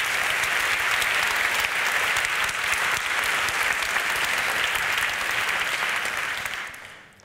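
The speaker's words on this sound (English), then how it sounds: "So a huge round of applause for Matthias." Sustained audience applause at a talk on nanomaterials, steady and dense clapping filling the room for about seven seconds before tapering off at the end.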